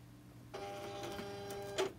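A Silhouette cutting machine feeds in sheet material for magnets. A sudden mechanical whir with tonal motor hum starts and runs briefly, ending in a short louder clunk.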